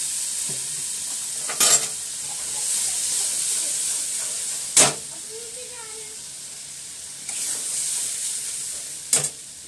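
Ground spice paste frying with onions in a pan, a loud continuous hissing sizzle close by, punctuated by three or four sharp spoon knocks against the pan, with faint speech in the background.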